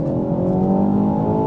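A tuned Mk4 Ford Focus ST hatchback revs up steadily accelerating in second gear, a loud, close, rising drone with a harmonic whine climbing in pitch throughout.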